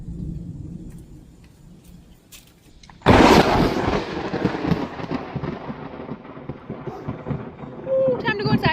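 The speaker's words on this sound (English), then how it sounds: "It is quite a stormy afternoon here in South Carolina." Loud thunder in a stormy South Carolina afternoon: a sudden close crack and rumble bursts in over quiet background and rolls on, fading slowly with rain-like noise behind it.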